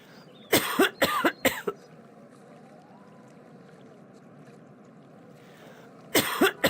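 An elderly woman coughs in harsh, rapid bursts, three close hacking coughs at the start and another cluster at the end, loud and near in a quiet indoor room.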